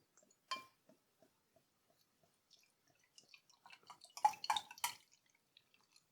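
Alcohol-free pale ale poured from the bottle into a glass, heard as quiet scattered clinks and drips before a short burst of gurgling splashes near the end. Nobody speaks.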